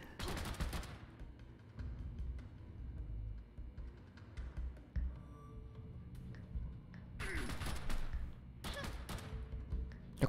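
Gunfire from the video game Fallout Shelter, a series of sharp, loud shot bursts in clusters near the start and again toward the end, over a busy game soundtrack with thuds in between.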